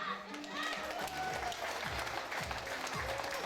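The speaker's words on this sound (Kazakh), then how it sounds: "Шапалақ былай соқпайды, шапалақты" Wedding guests applauding, a continuous patter of clapping from a crowd in a hall, moderately loud, with a voice speaking over it and deep rhythmic musical thumps underneath.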